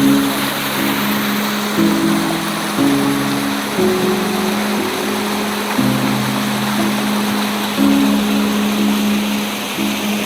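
Water rushing along a jungle stream, a loud steady broadband wash close by, with a low droning hum pulsing underneath throughout.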